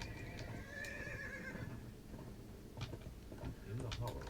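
Horse whinnying and neighing in Dungeons and Dragons Online, with clip-clopping hooves and a busy game soundscape underneath; the neigh comes early, followed by steady hoofbeats and a few sharp thuds.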